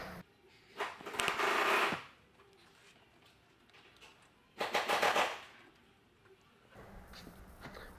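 An 8mm bolt driven into a rear brake rotor on a 2007 Honda Pilot to force it off, heard as two bursts of rapid ratcheting or rattling about two seconds long, close and loud, with quieter clatter between.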